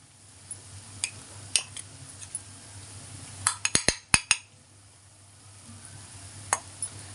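A spoon clinks and scrapes against a cooking pan as ginger garlic paste goes into browned onions for chicken curry. Sharp metallic taps come in a quick cluster over faint background hum, with no voices.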